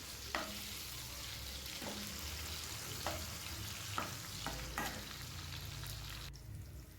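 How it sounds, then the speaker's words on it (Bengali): Potato and pumpkin pieces lightly frying in a pan for khichuri bhog, a continuous soft sizzle with a few sharp stirring scrapes spaced through it, fairly quiet and with no voices. "ওই জন্য এটাও একটু হালকা করে ফ্রাই করে নিচ্ছি"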